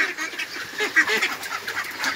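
A few ducks honk and quack in short, nasal calls, close by and fairly soft, with no talking.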